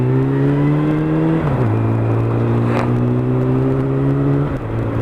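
A motorcycle accelerates with a loud, close engine hum that rises steadily, then drops in pitch twice as it shifts up through the gears.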